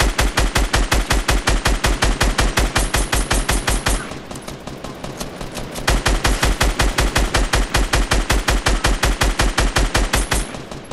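Rapid automatic gunfire in a shooter video game, a loud, steady stream of shots that pauses briefly midway and then resumes at the same fast rhythm.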